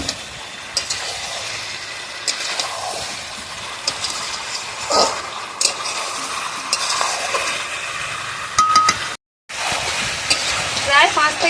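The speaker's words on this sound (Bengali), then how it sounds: "এইভাবে এবারে সমানে কষে কষতে থাকতে হবে, অনেকক্ষণ কষে পুরো জলটাকে শুকনো করতে হবে।" Country chicken curry is stirred and fried in a pot on a clay stove: continuous close sizzling with repeated scraping stirs and clatter, plus a brief drop-out near the end.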